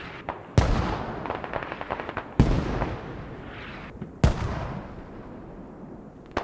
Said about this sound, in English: Mortars from Sarak.